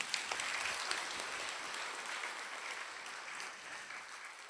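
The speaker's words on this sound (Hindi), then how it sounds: "एक बार जोर से ताली बजा दीजिए आप" Audience applause at a religious satsang of the Satguru Kabir Panth: a dense, faint wash of clapping that holds steady throughout.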